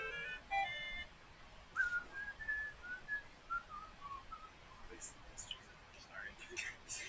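A person whistles a melody softly, with short clear notes rising and falling over a few seconds, close and quiet against a faint background, with brief breathy sounds near the end.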